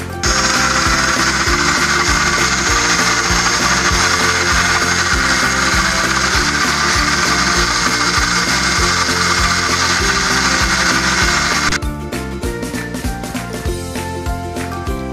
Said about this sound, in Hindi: अब इस सारे मिक्सचर को मैं ग्राइंड कर लेती हूँ।